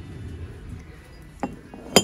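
A heavy cast iron contortionist figure clinks as its lid is handled, two sharp metallic knocks standing out near the end over quiet room tone.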